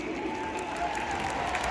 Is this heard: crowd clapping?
yes